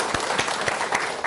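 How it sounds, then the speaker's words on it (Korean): Brief applause from an audience at a church parents' seminar in Korea, a steady patter of clapping with a few heavier pulses, moderately loud. "박수 한번 주십시오."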